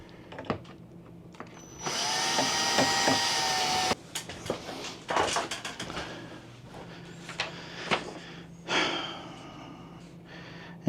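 A power drill snugs the screws on an RV air conditioner unit, one steady two-second whir, then scattered clicks, knocks and handling noises with short bursts of motor.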